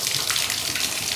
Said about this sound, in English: So once that water is running through the horn